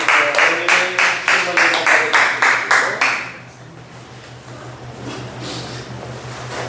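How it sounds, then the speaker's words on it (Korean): Church congregation clapping together in a steady rhythm during a Sunday worship service, loud and close for about three seconds, then fading into quiet room murmur. "우리 하나님께 영광 박수"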